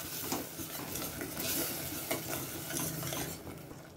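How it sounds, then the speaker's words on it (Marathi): Ground spice paste sautéing in a pan for a wild-vegetable (shevala) dish, a steady close sizzle with scraping stirs and light clinks of a utensil against the pan throughout. "तीन 4 मिनिटं हे वाटण चांगलं परतून घेऊ आपण"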